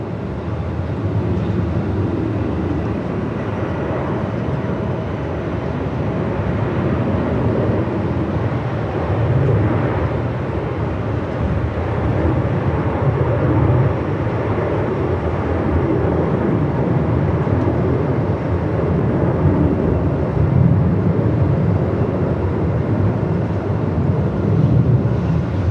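Velocity Boeing 737-800 bound for Sydney taking off at Melbourne Airport into a strong 45-knot wind: a steady, broadband jet engine roar mixed with wind buffeting on the microphone, sustained and fairly loud throughout.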